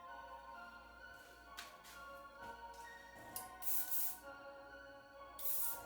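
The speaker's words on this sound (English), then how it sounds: "Be sure when you're spraying this hair dye on, you're keeping the same exact process on both sides of the head." Hair dye sprays onto the sides of a client's head during a barbershop bald fade, several short hissing aerosol bursts, close and fairly loud, with no talk.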